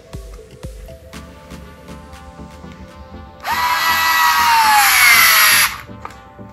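A Bosch Go 3.6V cordless screwdriver on power level three drives a screw, its motor whirring loud and close for about two seconds after a few faint clicks, then stopping abruptly.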